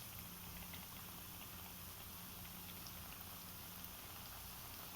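Balushahi dough rounds sizzling in hot oil over a medium flame, a steady soft crackling hiss with faint bubbling throughout, close and even with no voices.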